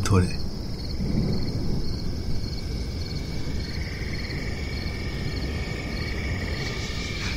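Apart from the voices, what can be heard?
crickets chirping continuously in roadside jungle at night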